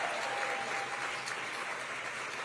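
Audience applause for the event servers from Unite Local 2 and the AV and stage crew from Stagehands Local 16 at a political speech event; steady, dense clapping fills the whole stretch without voices.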